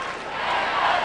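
Wimbledon tennis crowd during a 1997 fourth-round match on grass, a broad roaring cheer that swells slightly louder over a second, dense and continuous with voices blended together.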